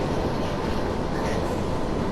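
A DB Br 155 electric locomotive coasts in Train Sim World, giving a steady, dense rumble of rolling wheels and running gear at constant level throughout, with no voices.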